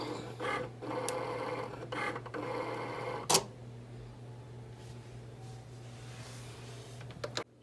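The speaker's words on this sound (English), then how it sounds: "the machine is like reading the sensors, which is like the box around it, and then it starts cutting" An electronic craft cutting machine slices out a transfer design, giving a steady whirring mechanical drone with a low hum, stuttering movements and one sharp click near the middle, recorded close with no talking.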